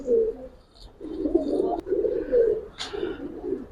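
Giribaz pigeons coo in low, throaty phrases up close, several repeated calls with short gaps, and a faint higher chirp and a brief click between them.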